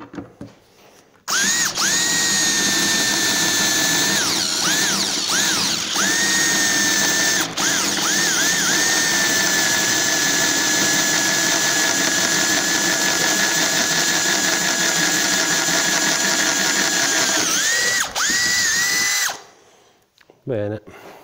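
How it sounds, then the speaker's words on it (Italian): A Teccpo 18V cordless drill bores with a 10 mm bit at first speed, a loud steady whine running nearly twenty seconds with brief dips in pitch as it bites, then stopping abruptly before a few faint clicks. "Punta da 10 sul trapano Tecpo, prima velocità."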